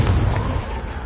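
The Confringo fire-blast spell from Hogwarts Legacy goes off in a single loud, close boom that decays into a short rumbling tail.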